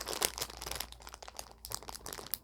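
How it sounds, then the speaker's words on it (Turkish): A packet is torn open by hand, sharp plastic crinkling and rustling in quick bursts, close and fairly quiet, with no one talking. "Açtım paketi."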